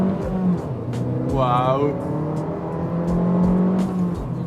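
An Abarth 595 engine revs hard while accelerating, heard close from inside the car, with rising and falling engine tones through gear changes and a brief spoken exclamation over it.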